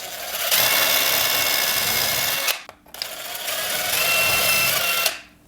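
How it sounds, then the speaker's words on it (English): A power drill bores holes into a wall for blind brackets, two sustained loud whirring bursts of about two seconds each with a short pause between, up close and with no talking. "And then drill your holes."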